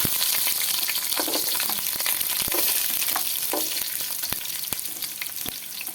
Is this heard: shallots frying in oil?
yes